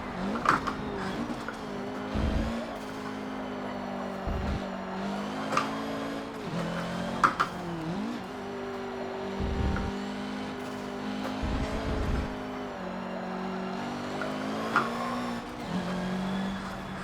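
Racing car engines in Forza Motorsport 7 on the Nordschleife whine and rev continuously with shifting pitch, broken by brief gear-change dips and short screeching tire squeals as tires grow slick, loud and close.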